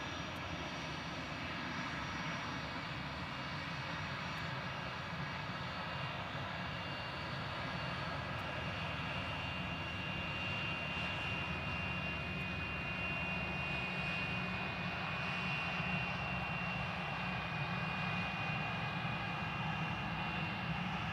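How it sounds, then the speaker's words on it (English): An Embraer ERJ 145 regional jet at Glasgow airport gives a steady, continuous engine roar with a thin high whine that holds at an even loudness for the whole stretch, with no talk over it. "I do know it's an Embraer ERJ 145."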